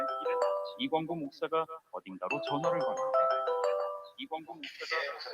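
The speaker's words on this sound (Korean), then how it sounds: "다음 날 이른 아침 이광구 목사가 어딘가로 전화를 거는데" A phone call rings out as a bright melodic ringtone, a looping tune of clear tones that plays nearby and continues for the whole stretch.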